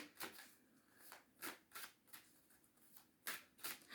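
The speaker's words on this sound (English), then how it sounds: "3 more shuffles." Quiet, close tarot card shuffling in several quick riffling bursts with short pauses between them, no voices.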